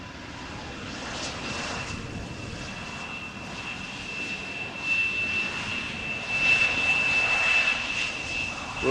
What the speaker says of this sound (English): this is KLM flight 1534, Embraer 175 arriving from Darlington